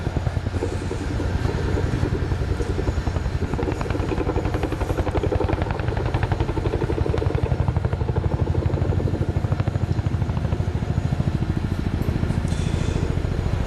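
A large twin-rotor Boeing Chinook HC4A helicopter of the Royal Air Force drones loudly and steadily overhead at a flying display at the ILA 2016 Berlin air show, its rapid rotor thumping pulsing without pause throughout.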